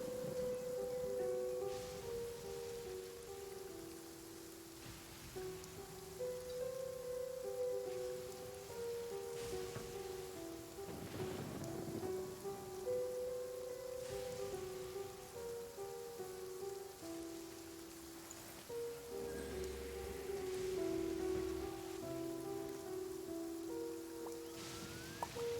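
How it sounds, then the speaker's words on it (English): Steady rain falls in the video game Genshin Impact, a continuous soft patter running the whole time alongside a tonal music melody, with no talking. "But I love listening to the rain."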